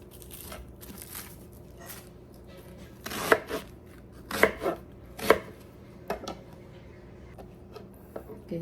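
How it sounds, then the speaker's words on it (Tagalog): A knife slices through an onion on a cutting board, giving a few distinct, fairly close chopping thuds spaced about a second apart over a quiet room background. "hiwa tayo ng sibuyas"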